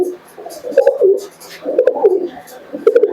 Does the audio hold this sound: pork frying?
no